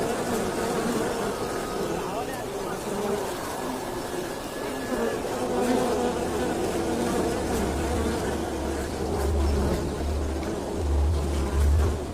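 Honeybees buzz on a honey farm in Nepal with a continuous, close drone. A low hum swells in the second half.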